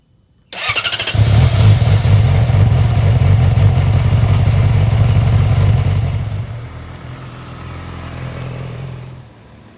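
A motorcycle engine starts up and runs loudly and steadily, then drops to a quieter idle before cutting off.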